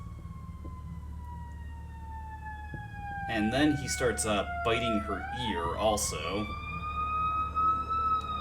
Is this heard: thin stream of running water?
no